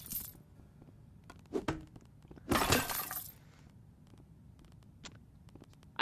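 Objects smash and shatter in the Rec Room video game, with a few scattered glassy breaks and one loud burst of crashing debris in the middle, followed by sparse small clinks.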